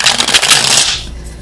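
Tarot cards riffled and shuffled in a dense papery flurry, loud and close for about a second before tapering into a soft handling rustle.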